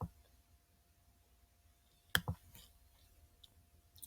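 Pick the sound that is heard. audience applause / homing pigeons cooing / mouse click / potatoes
mouse click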